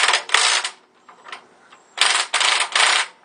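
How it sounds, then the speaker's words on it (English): A socket wrench loosens ball joint nuts on a 1955-57 Chevrolet, two bursts of quick ratcheting clicks separated by a brief quieter pause, close and loud. "So I'm going to just use my 7/8 drive socket here and just loosen them a little bit."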